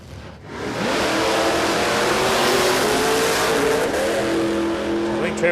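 A drag racing car at a Warwick Dragfest radial qualifying session runs out of fuel, its loud engine sputtering and wavering in pitch over several seconds, with faint crowd and track ambience around it.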